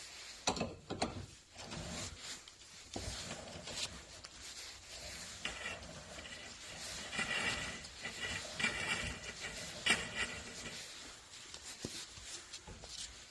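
A Honda N600 front axle being pried out with two screwdrivers, giving close, irregular metallic scraping, clicking and ratcheting noises over a steady background.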